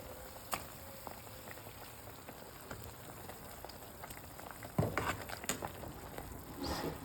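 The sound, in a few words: water boiling in a pot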